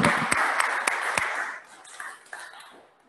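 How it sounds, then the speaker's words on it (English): A church café gathering breaks into applause, dense clapping at first with a few sharp claps standing out, then thinning and fading over the last second or two. "Let's give Vanessa a round of applause."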